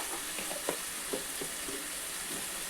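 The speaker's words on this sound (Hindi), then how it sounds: "अब इसे हमें ढक ढक करके भूनना है जब तक ऑयल सेपरेट ना हो जाए" Masala fries in oil in a pan with salt added, sautéed until the oil separates: a soft, steady hiss broken by several short scraping stirs of a spoon, quiet and close, with no talking.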